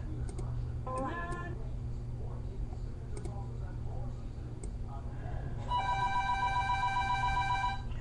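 A phone rings with a bright electronic tone that sounds briefly early on and then rings steadily near the end, over a low background hum.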